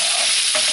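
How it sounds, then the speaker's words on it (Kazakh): Chicken thighs being stirred in a curry sauce with sour cream, a short close scrape of the spoon through thick sauce over a soft background sizzle. "И мешаем."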